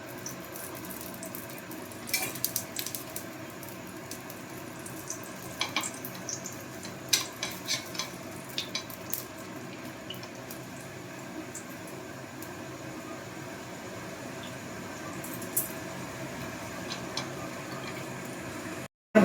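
Laccha paratha frying in oil in a pan, a steady soft sizzle with scattered crackles and occasional utensil clinks, fairly quiet and continuous without talk.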